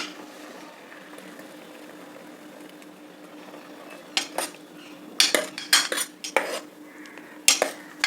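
Ground spice paste is scraped from a vessel into a pot of boiled raw plantain: a low simmering hum, then a burst of sharp metal spoon clanks and clinks against the pot rims.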